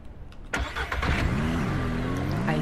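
A car engine in Ranch Simulator cranks and catches after a quiet moment, then settles into a loud, close, steady rumble with a slight rising and falling rev.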